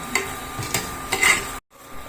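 Diced potatoes fry in a pan while a utensil stirs them, giving close scraping strokes over a steady sizzle, cut off by a brief silence near the end.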